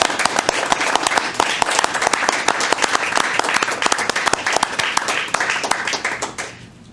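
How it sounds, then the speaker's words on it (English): A roomful of people at a school board of education meeting applaud in a steady, dense burst of clapping that fades out at the end. "Let's give them another round of applause."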